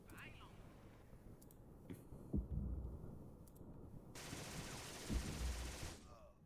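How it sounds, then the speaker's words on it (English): A tank's hull machine gun fires in a WW2 strategy video game, short bursts of rapid gunfire with a heavier blast partway through, mixed with game noise. "Hull machine gun"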